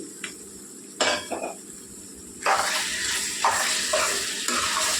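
Spoonful of green masala frying in a pan of brinjal and drumstick curry, a steady soft sizzle with a few clinks and scrapes of a spoon stirring against the pot, close by.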